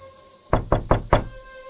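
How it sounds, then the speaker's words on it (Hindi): Windows slamming shut in the wind as a horror story sound effect in a haunted village. Four loud, evenly spaced wooden bangs ring out in quick succession over a steady background hum. "अब गांव में हवा चलने लगती है, दरवाजे अपने आप बंद होते हैं, खिड़कियां पटकने लगती हैं।"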